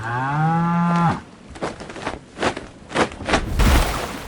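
A cow gives one loud, close moo lasting about a second, followed by a series of dull thumps and knocks, as if a heavy animal were moving about in a farmyard.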